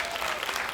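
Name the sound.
audience applause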